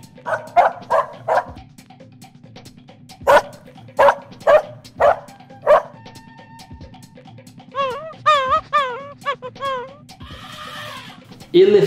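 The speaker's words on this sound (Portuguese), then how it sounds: "Cachorro." A dog barks in loud, sharp bursts, first a quick cluster and then a spaced series, followed by other animal calls that sound like birds.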